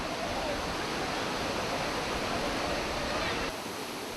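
Waterfall at an amusement park roars as a dense, steady broadband rush that fills the whole clip, loud and continuous, with no distinct voices emerging.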